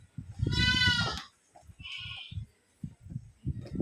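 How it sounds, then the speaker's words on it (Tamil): Baby goats bleat at a village home, several loud wavering cries close by, separated by short pauses and soft low thumps. "நிறைய குட்டி ஆட்டுக்குட்டி இருக்கு அவங்க வீட்டில்"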